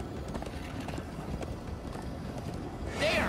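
Horse hooves clip-clop in the Minecraft Story Mode video game, a steady run of rhythmic hoof beats that ends in a short, brighter burst that could be a whinny.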